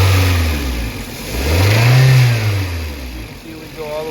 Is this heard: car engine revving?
yes